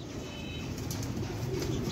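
Soft cooing of rare pigeons on a rooftop amid low background noise, faint and somewhat distant, with no talking.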